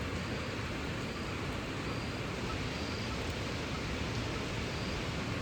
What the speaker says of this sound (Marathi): पाऊस तुम्ही पाहू शकाल, रात्रीपासून मुसळधार पाऊस आहे बघा